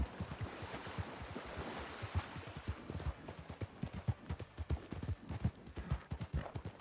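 Horse hooves clip-clop in a steady trotting rhythm across the Red Dead Redemption 2 game world, clear and fairly close, with a faint water-like wash in the background and no talk.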